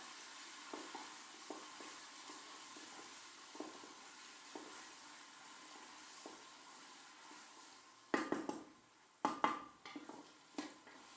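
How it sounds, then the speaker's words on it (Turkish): Onions and tomato paste fry with chickpeas in a pot, giving a soft steady sizzle with light scraping stirs, then louder clanks and splashy bursts near the end. "Soğanını kavurdum. Salçasını da atıyor, Nohudunu da dökeyim."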